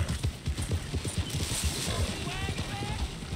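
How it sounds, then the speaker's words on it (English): In the video game Red Dead Redemption 2, a horse's hooves clip-clop rapidly and its agitated whinnying rises near the end, with background game noise and people talking over it. "We agitated the horse."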